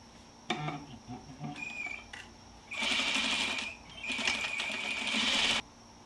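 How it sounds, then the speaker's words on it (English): A sewing machine stitching men's shorts pieces at a quarter-inch seam: two steady, whirring runs of stitching, close and clear, preceded by light handling clicks of fabric and machine. "And I'm sewing it at"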